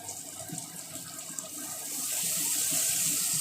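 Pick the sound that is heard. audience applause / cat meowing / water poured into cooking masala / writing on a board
water poured into cooking masala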